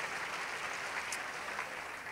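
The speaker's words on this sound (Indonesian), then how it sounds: "Kasih tepuk tangan yang meriah untuk Tuhan Yesus" Steady, fairly faint congregation applause during a Christmas church service, a continuous wash of clapping with no voices over it.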